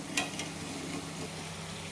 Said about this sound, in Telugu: ఇలా బోండాలు వేసిన తర్వాత వీటిపైన ఇలా తిప్పుకుంటే అప్పుడు అన్ని సైడ్ల ఇది ఫ్రై అయిపోతాయి